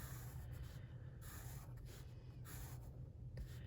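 A soft, steady scratchy rasp of a soft 2HB pencil drawing a straight line on paper runs continuously for several seconds, close and fairly quiet, with no talking.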